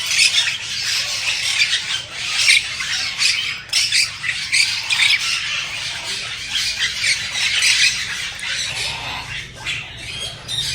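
Colorful parrots at a bird park squawk loudly and repeatedly, harsh overlapping calls filling the air close by with little pause.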